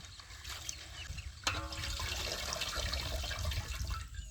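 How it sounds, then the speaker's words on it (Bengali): Fresh garden spinach being rinsed in water, with a steady splashing and trickling wash that swells after a sharp knock partway through, heard close and alone. "পালং শাকগুলো ভালো করে এবারে ধুয়ে নেব।"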